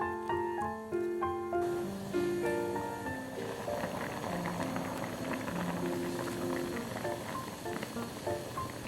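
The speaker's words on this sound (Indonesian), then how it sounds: "Ini kita aduk sebentar dan biarkan mendidih." Steady bubbling and simmering from a pot of rabokki sauce with onion on the stove, with scattered sizzles and pops over a constant background hum.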